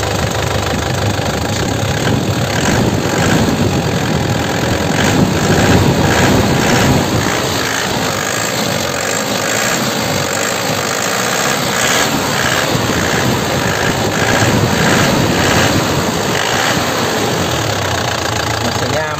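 A 2009 Isuzu Panther LS Turbo diesel engine being revved, a loud close rumble that swells and falls in repeated throttle blips over a steady idle.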